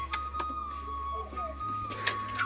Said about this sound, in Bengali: নর কবুতরটা তো ডানা নড়াচ্ছে দেখো কত সুন্দর